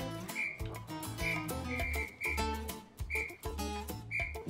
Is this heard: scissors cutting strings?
no